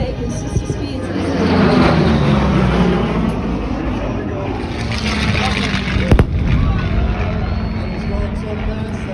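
A propeller airplane at an airshow performs a four-point roll, its engine droning loudly and steadily with a rising and falling pitch, heard under an announcer's voice.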